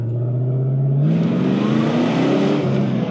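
A 1989 Ford Saleen Mustang engine pulling hard, its loud, close note rising steadily as it accelerates.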